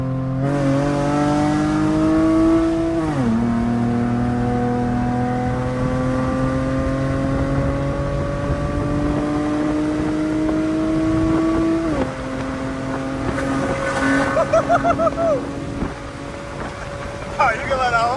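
A car pulls hard in second gear toward 50 mph, its engine climbing loud and steady with one gear change near the start and another partway through, while people talk in the cabin.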